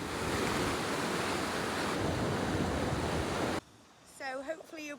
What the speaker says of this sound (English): hopefully you'll be able to hear me above the crashing waves